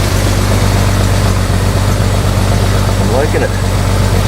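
A vehicle engine with freshly repaired exhaust leaks idles in a steady, low, loud rumble while someone speaks briefly over it.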